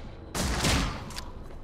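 A quick burst of gunfire in The Sinking City hits loud and sharp, a short rattling volley that tails off into a softer echo with a couple of faint later pops.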